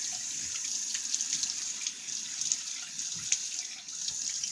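A bathroom tap runs water into a sink to wet the face before a shave, a steady close hiss and splash without a break.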